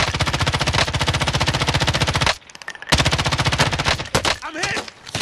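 Rapid automatic gunfire in the battle royale game Warzone, a loud close sustained burst of evenly spaced shots, a brief pause, then another burst that breaks into scattered shots with a voice briefly audible near the end.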